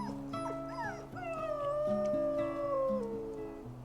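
A dog left with a sitter at a campsite whimpers and howls while its owner rides away on an e-bike. The high, wavering cries rise and fall in long pitched whines and sound close and fairly soft.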